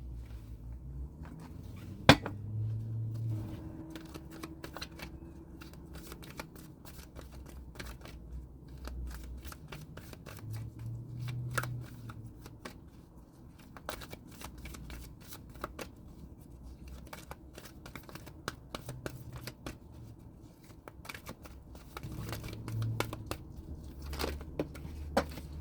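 A deck of tarot cards shuffled and handled close by, soft papery riffles and flicks with scattered crisp snaps, quiet and continuous with no talking.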